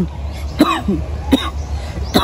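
Three sharp coughs from one person, spaced about a second apart, close and fairly loud over a steady background hum.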